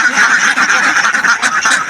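Farm ducks being fed before release onto a pond quack loudly and close by, a dense burst of overlapping honking calls with no pause.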